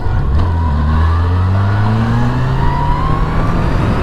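A Yamaha FJR1300 motorcycle accelerates hard on an open road, its engine note climbing steadily in pitch through a gear under loud wind rush, close and continuous.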